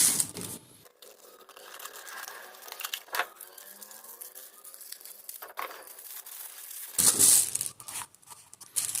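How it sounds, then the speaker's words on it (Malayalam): Packaging for a 4-inch Doogesound silk dome tweeter is torn and crinkled open in close, irregular bursts of ripping and rustling, with quiet handling gaps between them. "ഓക്കെ, നമുക്ക് അടുത്ത ട്യൂട്ടറും കൂടി ഒന്ന് അൺബോക്സ് ചെയ്യാം."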